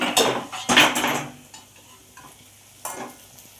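Cooked basmati rice tossed into a pan of fried carrot and capsicum, a few sharp scraping stirs of a spatula against metal over a soft sizzle, then a quieter pause and one more stir.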